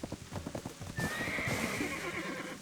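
Hooves clip-clop in a quick rhythm from a horse in a video game, then a loud, drawn-out whinny rings out over the steps, all close and clear.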